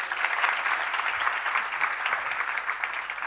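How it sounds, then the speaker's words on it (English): A lecture audience at a Srimad Bhagavatam class bursts into dense, even applause that holds steady throughout, a close, bright wash of many hands clapping with no voices over it. "Give her a round of applause."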